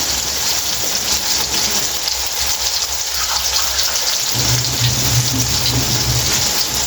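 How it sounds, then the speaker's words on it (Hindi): A little water is poured into a hot pan of masala for stuffed tinda curry, producing a loud sizzling, hissing rush that continues steadily, with a lower bubbling layer joining partway through. "ये इतना सा पानी डालेंगे।"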